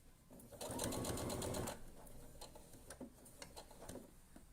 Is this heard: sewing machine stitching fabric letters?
yes